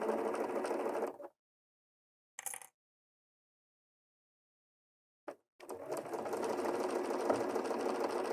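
A sewing machine runs in two steady stretches while stitching the sewing stage of a Kimberbell Christmas embroidery project, with a brief burst and a short tap in the quiet gap between.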